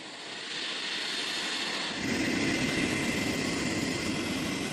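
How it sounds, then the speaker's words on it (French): Engines of an Ilyushin Il-76, a large Cold War-era Russian transport aircraft waiting on a runway for an Antarctic flight, a steady loud broadband roar that swells slightly, with no talk. "Un Ilyushin 76 attend sur la piste. C'est un gros avion de transport russe qui date de la guerre froide."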